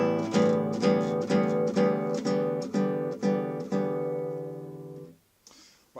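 Classical guitar playing the coda of Villa-Lobos Etude No. 4, repeated plucked chords across several strings in a steady pulsing rhythm, close and clear, fading out at the end.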